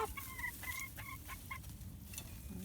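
Bantam chickens in a small backyard coop give a quick run of clucks, five or six short rhythmic calls, faint and close, followed by a brief higher squawk.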